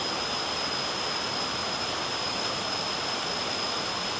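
Krathing waterfall in Chanthaburi, Thailand, a steady broadband rush of falling water at level seven of the cascade, constant and fairly loud with no voices.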